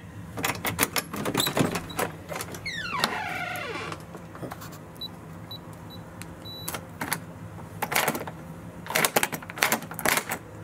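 A Schlage keyless door lock, freshly lubricated with WD-40, whirs and clicks through its motorized cycle in a burst of mechanical rattles, a rising grinding sweep, then more clicking and clattering nearby.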